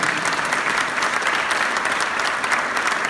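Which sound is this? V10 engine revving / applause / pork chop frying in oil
applause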